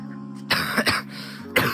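A person coughs three times in a row, close and harsh, with short dry bursts separated by brief pauses over a low steady hum.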